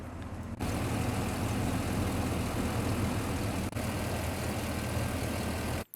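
A low, rumbling Hummer engine from the video game Cyberpunk 2077 idles steadily and loudly, starting after a brief pause and holding a constant throb until it cuts off at the end.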